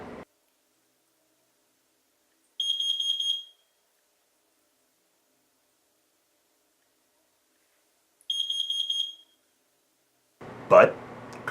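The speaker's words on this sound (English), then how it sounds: "what does it sound like? Well, obviously it depends a little bit on where you're at and where the regulations are from, but let me show you a common one." Carbon monoxide detector in a home sounding two separated bursts of rapid high-pitched beeps, loud and close, with a short noisy rustle at the end.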